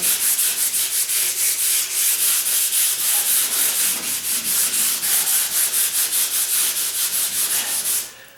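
Steady back-and-forth scraping of sandpaper by hand on a wooden door, close and loud, in a quick regular rhythm that continues throughout without talk.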